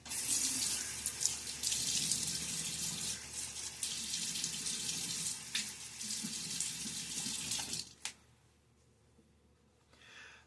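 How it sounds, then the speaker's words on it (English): Water runs steadily from a tap into a basin while wetting the face before a shave, loud and close for about eight seconds before cutting off to near silence. "And now let's get a little water on my face."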